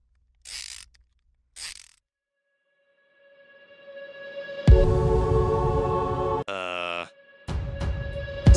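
Toy car wheels being screwed on in a cartoon: a couple of short clicks, then a rising mechanical whir that swells into a loud ratcheting, gear-like buzz with a brief tonal squeak, then more clattering mechanism noise.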